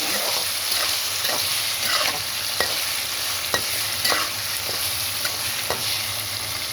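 Chicken liver fries with onion and green chillies in a pan, a steady sizzle broken by regular scraping strokes of a spoon as the mixture is stirred, close and continuous with no voices.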